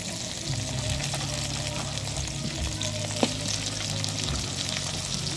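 Onion, garlic and ginger sizzling and frying in a pan as they are stirred, a steady hiss with occasional soft scrapes and a single sharp clink, close and continuous with no talk.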